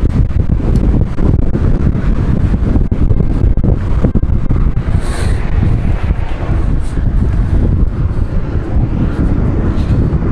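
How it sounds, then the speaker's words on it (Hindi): Strong cold wind blowing at a roadside mountain pass near shops, a loud constant buffeting roar against the microphone with no talking. "हवा बहुत ठंडी है,"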